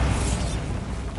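A Bombarda explosion spell cast in the Hogwarts Legacy video game, heard as a dense, noisy burst with heavy low rumble that stays loud and sustained for about a second without clear decay.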